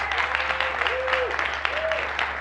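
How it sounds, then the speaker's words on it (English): Church congregation applauding during a Sunday service, steady clapping beneath a sustained tonal sound and some voices. "So let's give them a round of applause."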